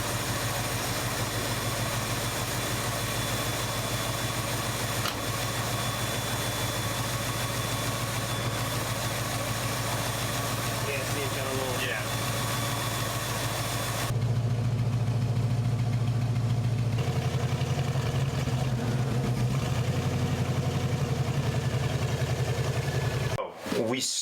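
A long-stored Ford Mustang Mach 1 engine runs roughly with a steady, loud, uneven idle drone close by, shifting in tone partway through before cutting out near the end.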